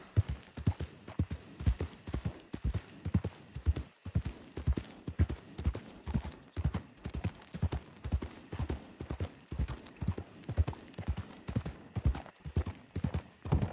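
Horse hooves in a Red Dead roleplay game clip-clop in a fast, even galloping rhythm, clear and continuous throughout, with no talk over them.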